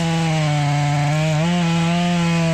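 A chainsaw bores into a white oak trunk with a loud, close, sustained buzzing drone. The engine pitch dips briefly midway and then recovers.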